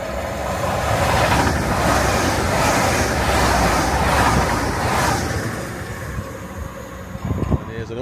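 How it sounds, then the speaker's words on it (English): A Newcastle-bound train rolls into a station stop, a steady loud rumble of wheels and carriages filling the scene before easing off, with a few sharper clunks near the end. "There's a Newcastle train here now."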